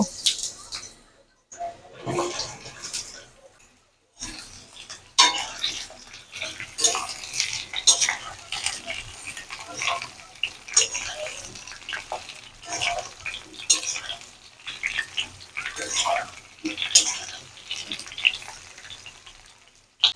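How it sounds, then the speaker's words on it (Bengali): Ridge gourd pieces frying in oil in a pan, with uneven bursts of sizzle and frequent scraping and clinking of a metal spatula against the pan, some quiet gaps between stirs. "এবার আমরা ঝিঙাগুলোকে তেলের উপর একটু ভেজে নেব"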